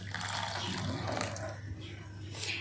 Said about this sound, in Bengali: তো আমি গরম জল দিয়ে দিচ্ছি।